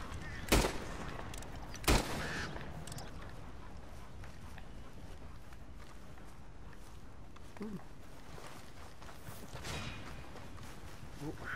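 Two sharp gunshots crack in Red Dead Redemption 2 at a horse in the distance, close together near the start, and a softer shot follows later over low background noise and quiet talk.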